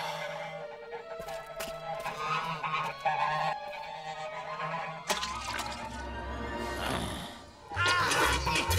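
Geese honking in a busy scene, with several overlapping calls rising over a low rumble and some background clatter.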